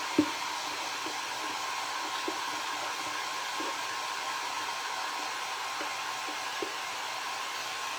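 A hair dryer blows steadily for the whole stretch, drying paint on a papier-mâché box, an even broadband whoosh with a few faint clicks and taps underneath and no talking.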